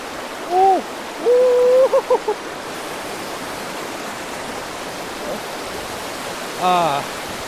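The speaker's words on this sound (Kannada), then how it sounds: "ತಣ್ಣಗಿರೋ ನೀರು ಎಗರ್ತಾ ಇದೆ ಹಂಗೆ." Cold lake water from Band-e Amir National Park, Afghanistan, spilling over a waterfall, a steady broadband rush throughout with a few brief bird-like hoots near the start and end.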